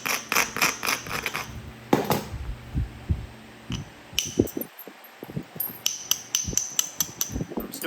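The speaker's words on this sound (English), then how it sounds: "I'm still beveling to shoot off this side. While removing any necessary flakes." A Hardin-style arrowhead is flint-knapped from Florida coral, beveling the edge and knocking off flakes: sharp, close clicks and taps in irregular bursts, with short quiet gaps between strikes.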